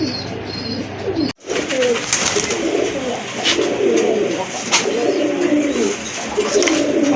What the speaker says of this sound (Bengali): দেখেন আরেক জোড়া কবুতর